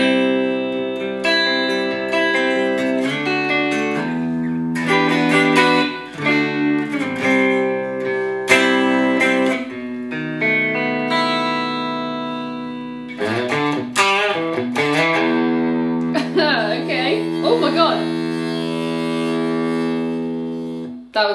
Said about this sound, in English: let's hear how it sounds through the onboard speaker.